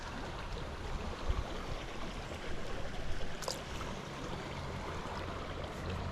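Small, tight trout creek flowing steadily, a dense close babble of running water that holds even throughout with no voices.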